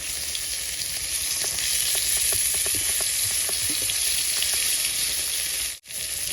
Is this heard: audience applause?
no